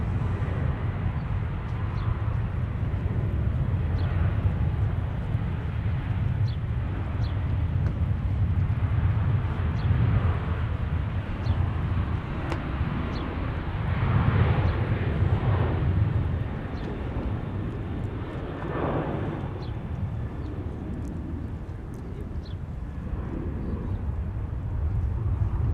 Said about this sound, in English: So this will be our first departure of the day.